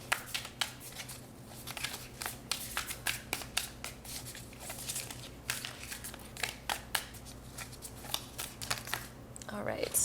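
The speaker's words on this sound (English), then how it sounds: "So I'm going to shuffle some tarot cards" A deck of tarot cards is shuffled by hand in a quick run of crisp riffling snaps and soft slaps, steady and close, with a voice speaking lightly over it.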